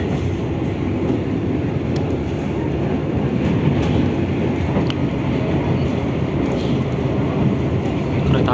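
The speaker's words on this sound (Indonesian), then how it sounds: "Entah ini kereta apa yang akan melintas." A train rushes past on the opposite track at an Indonesian station, a loud, steady rumble with rail clatter and faint squeals throughout, heard from inside a passenger train.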